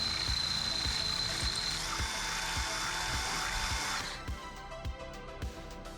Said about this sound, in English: Drilling with one hand and holding a camera in the other gets more difficult as the drill bits get